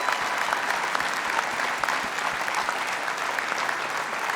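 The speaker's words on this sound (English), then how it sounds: "can we give them a round of applause?" Sustained applause from a large audience at an awards dinner honoring players' mothers, dense steady clapping filling the room throughout.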